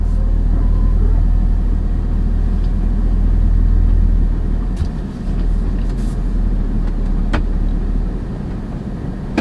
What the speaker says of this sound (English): Oh, it was wind.